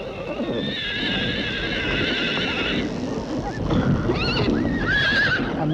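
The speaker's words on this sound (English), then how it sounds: "A Mongolian and his horse are inseparable" A horse in Mongolia whinnies several times in high wavering calls over steady clip-clopping hooves, loud and close throughout.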